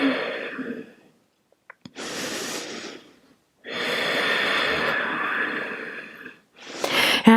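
Slow, deep yoga breaths held in warrior two pose: long audible inhales and exhales, close and fairly loud, separated by brief quiet pauses.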